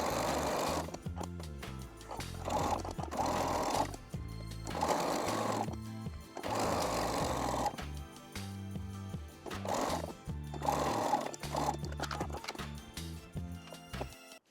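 A sewing machine stitches the side seams of a fabric tube top in steady rhythmic runs, with short pauses between bursts of stitching, close and clear without talk.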